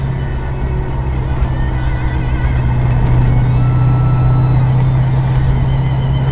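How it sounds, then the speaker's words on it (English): A 1982 Ford Fairmont XE ESP with the 5.8-litre 351 cubic-inch V8 heard from inside the car, giving a steady, loud, low engine rumble throughout with no talking. "And the one we're in now, Sasha's car's got the 351. And it sounds sweet"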